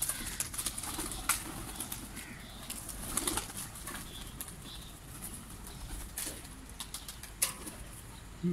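Flock of racing pigeons flying back to a village loft outdoors during a training session, with faint wing flapping, scattered soft coos and bursts of rustling over a steady open-air background.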